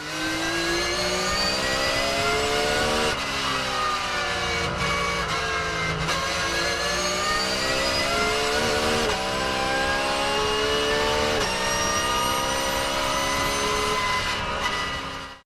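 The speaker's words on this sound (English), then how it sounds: "This car actually has one of my most favourite car sounds because of how screamy and loud it is" A Porsche 911 GT3 R (992) race car with a straight-cut gearbox screams past at high revs, loud and sustained, with a shrill gear whine and rising and falling pitch through several shifts.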